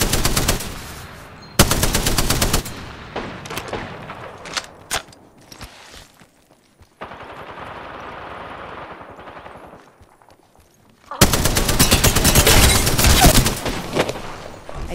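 Bursts of automatic gunfire in Apex Legends, loud and close, come in several long rapid volleys separated by quieter stretches with a faint hiss and scattered shots.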